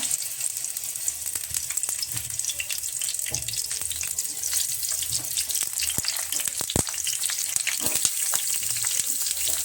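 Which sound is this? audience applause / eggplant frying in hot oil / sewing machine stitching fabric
eggplant frying in hot oil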